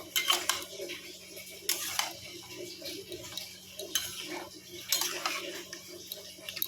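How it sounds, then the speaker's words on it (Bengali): A metal spoon scrapes and clatters in a pot as mutton and potatoes are stirred and fried, with irregular clinks over a low cooking hiss. "এবার এই মাংসের মধ্যে আলুগুলো দিয়ে দেবো, দিয়ে আবার কষবো"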